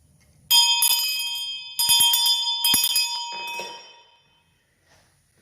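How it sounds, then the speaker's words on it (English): An old schoolhouse hand bell rings loud and bright in three or four shaken bursts with brief pauses between, its metallic clang ringing out and then fading to near silence. "And we have our bell."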